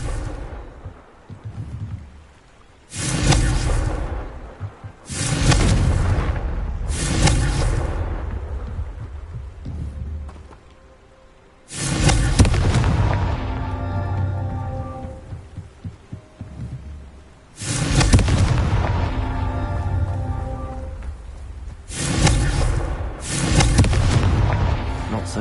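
Confringo spell blasts in the video game Hogwarts Legacy land as loud, booming explosions in several separate bursts, each decaying into a rumbling tail, with short quiet gaps between them.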